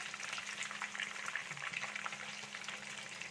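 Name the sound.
chicken frying in oil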